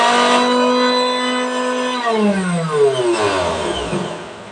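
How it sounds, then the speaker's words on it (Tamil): A mixer grinder grinds coconut, its motor whining loudly at a steady pitch before the tone slides downward as the machine spins down and stops. "கொஞ்சம் தேங்காய் அரைச்சிட்டாரு, கொஞ்சமாக அரைச்சி விட்டாரு, நான் அரைச்சி பார்த்துட்றேன்."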